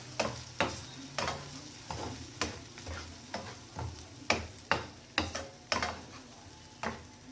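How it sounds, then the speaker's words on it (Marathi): Raw spice paste sautés in oil in a pan, a soft sizzle broken by a steady series of scraping stirs, roughly one every half second, close and fairly quiet. "आपली ही पेस्ट कच्ची असल्यामुळे त्याला छान तेलामध्ये परतून घेऊया"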